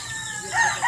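Backyard chickens and a rooster in a rural provincial garden after morning rain, a brief burst of clucking and crowing-like calls that swells louder near the end, with no talking.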